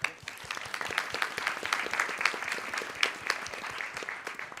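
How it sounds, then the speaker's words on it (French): An audience at a talk with a cinematographer claps warmly, with dense, fairly distant applause that continues evenly for several seconds, with no speech over it. "On peut l'applaudir."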